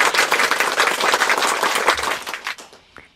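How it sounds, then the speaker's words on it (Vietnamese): A burst of clapping from a church congregation, dense and steady, then thinning out and fading over the last second. "Rồi cho một tràng pháo tay hoan hô."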